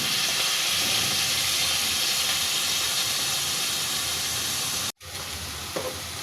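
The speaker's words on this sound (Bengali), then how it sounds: "তেলে ভেজে নিচ্ছি।" Ginger garlic paste fries in oil in a pot on the stove, giving a loud, continuous hissing sizzle that cuts out briefly near the end before a quieter hiss returns.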